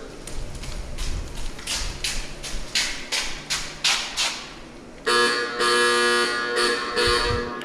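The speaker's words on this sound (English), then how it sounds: "That was the old bell, so everybody come running down the steps and get their food." A loud, sustained old building bell in a former county infirmary rings with a bright metallic clang, starting abruptly after a stretch of knocking and shuffling noises and continuing steadily to the end.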